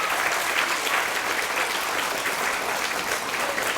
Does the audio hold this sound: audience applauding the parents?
yes